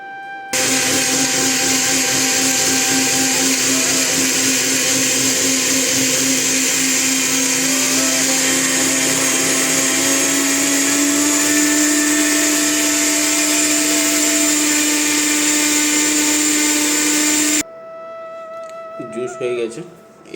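An electric blender whirs loud and steady for about seventeen seconds, its pitch rising slightly as fruit, milk and sugar are blended into juice, then it cuts off, leaving faint handling noises.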